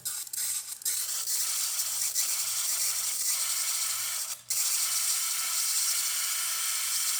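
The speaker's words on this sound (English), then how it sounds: "And the steam is working." A Rancilio espresso machine's steam wand hisses steadily and loudly at close range, a continuous broad rush that barely dips for a moment midway, with no talking.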